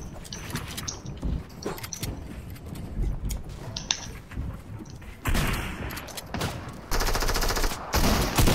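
Video-game gunfire crackles in bursts of close, sharp shots and rapid automatic volleys, with louder sustained firing toward the end.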